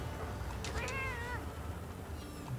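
A Palico cat companion in Monster Hunter Rise gives a single rising-and-falling meow, clear and close over a low steady background hum, with no talking.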